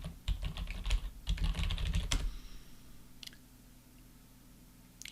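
Rapid bursts of clicky keystrokes on a computer keyboard as a hashtag is typed, close and moderately loud for about two seconds, then a few isolated taps over quiet room tone.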